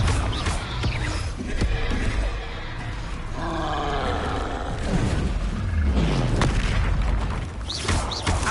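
A Confringo fire spell explosion in Hogwarts Legacy, with heavy booming blasts and a roaring rumble that swell and fade across the stretch, loud and close, under game effects.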